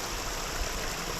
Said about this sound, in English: Water just cascading down the hillside.